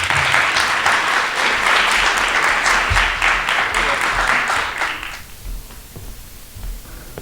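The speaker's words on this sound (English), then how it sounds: "Round of applause for Sasha Dean." Audience applause at a poetry slam, a dense crowd clapping loudly for about five seconds before fading out into quieter room noise with scattered claps.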